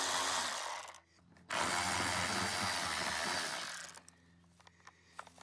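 Power tool running in sustained loud bursts while removing 10mm bolts on a 2024 Toyota Tacoma, one short pause early, then stopping into quieter workshop clatter.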